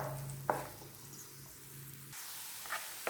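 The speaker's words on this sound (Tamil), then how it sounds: "இது நல்லா கோல்டன் ப்ரௌன் கலர் வர அளவுக்கு இதை நம்ம வதக்கணும்." Chopped ingredients sautéing in a pan until golden brown for paneer butter masala, a soft, low sizzle with a couple of faint stirring clicks, quiet and close.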